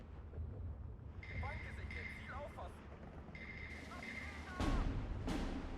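120mm mortars fire in the wartime strategy game Steel Division 2, dull distant booms and rumbling impacts rolling under a busy battlefield din, with a heavier blast near the end.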